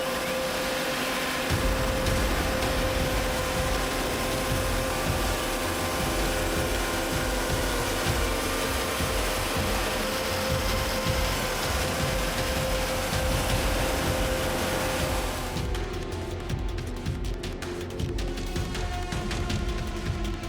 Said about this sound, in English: That's the Norwood Portamil PM14 chainsaw operating at full power.